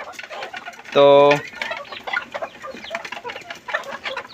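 Chickens and chicks cluck and squawk while pecking at feed, with one loud, drawn-out call standing out near the start over the busy flock chatter. Someone speaks briefly over them.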